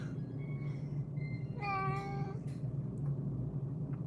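A fourteen-year-old female house cat lets out a single clear, nearby meow midway, preceded by a couple of faint, thin tonal calls, with a low steady indoor hum throughout and no speech.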